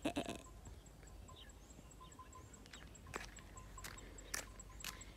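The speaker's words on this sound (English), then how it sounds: "That's the sheep." Faint sheep bleats from a distance over an outdoor background with a few scattered knocks and clicks.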